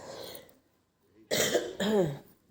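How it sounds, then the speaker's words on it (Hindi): A few harsh coughs come close to the mic after a quiet pause, the last one rough and throaty. "खांसी भी हो रही है मेरे को बीच बीच में"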